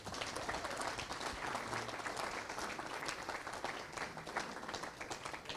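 Steady applause from a Rotary club meeting audience welcoming a guest speaker, a combat veteran colonel, fairly quiet and continuous throughout with no voices over it.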